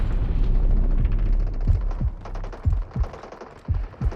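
Gunfire from the mobile shooter Delta Force in King of the Hill mode: a run of sharp, loud shots in uneven bursts follows a dense rumbling stretch, with no talk.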